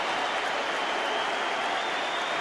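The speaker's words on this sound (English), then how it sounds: "Paul Tosh being applauded warmly" Dundee supporters at a League Cup semi-final football match against Airdrie applaud a substituted player warmly as he leaves the pitch, a dense, steady wash of clapping from a large crowd across the whole stretch.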